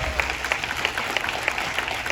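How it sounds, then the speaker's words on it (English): A theater audience applauds after a screenwriters' question-and-answer session following an Ed Wood screening, steady dense clapping heard from a distance, fairly soft and even. "we have a big round of applause for Scott and Larry."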